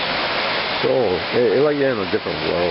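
A waterfall in a lush jungle backyard in Hawaii gives a steady, close broadband rush throughout, with someone talking over it.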